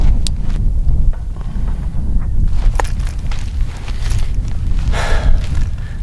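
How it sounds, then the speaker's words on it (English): Wind blowing hard across an outdoor archery range, a loud, continuous low rumble of gusts buffeting the microphone, with a few faint clicks and rustles and no talk. "Wind was blowing too much. Wind's starting to blow."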